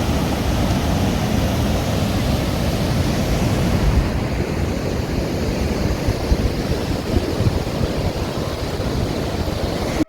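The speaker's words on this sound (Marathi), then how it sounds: "आणि इथेच आपल्याला धबधबा पाहायला मिळतो। खूप सुंदर परिसर आहे, शांत ठिकाण आहे आणि फक्त पाण्याचा आवाज आपल्याला येतोय" A waterfall near a Ram temple pours steadily, its broad, continuous rushing roar holding close and even throughout with no voices.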